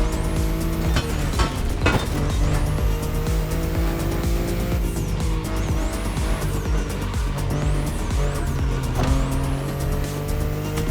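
A BMW i8 drives in The Crew Motorfest racing game, its engine droning steadily with rising and falling pitch sweeps as it accelerates and shifts, with brief tire squeals, loud and continuous throughout.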